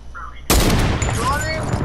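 A sudden burst of loud video-game gunfire cuts in after a quiet moment and keeps rattling on in a dense, close volley.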